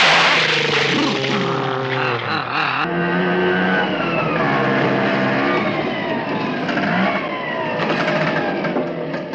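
An auto rickshaw engine runs loud and close, its pitch rising and falling as it revs and drives along without pause.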